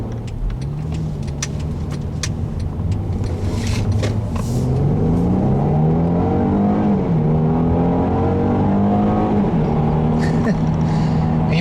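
A 2016 Mercedes-Benz E400 Coupe V6 engine restarting after auto start-stop and pulling away, a smooth, fairly quiet hum that rises and falls in pitch as it accelerates, heard close and steady throughout.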